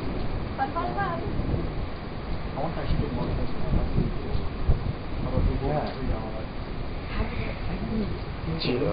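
Cold wind from a bow echo storm buffets a hotel in Arkansas, a steady low rushing roar that persists throughout, with faint bird-like calls scattered over it.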